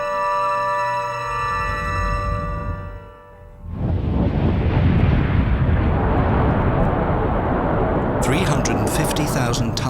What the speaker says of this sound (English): Only a few seconds separate us from a huge explosion.